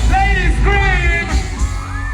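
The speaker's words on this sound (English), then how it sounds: "ladies scream." Women in the crowd at a reggae concert, a Sumfest 2022 show, scream in loud sustained wavering bursts that rise and fall, close and dense, with crowd noise and music underneath.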